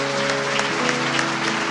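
A worship congregation applauds Jesus, continuous clapping layered over sustained keyboard or organ chords, loud and close throughout.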